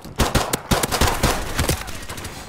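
Rapid bursts of gunfire from a first-person shooter video game, several sharp shots in quick succession over about two seconds, loud and close, with a dense game soundscape underneath and no talking.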